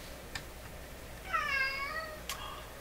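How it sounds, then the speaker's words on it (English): A cat cries indoors on a wet, rainy day, giving one clear, wavering meow in the middle, set between a couple of small sharp clicks in an otherwise quiet room. "Oh, my little cat is crying to me."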